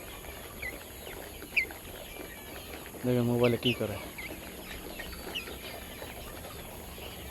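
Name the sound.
desi chickens clucking and pecking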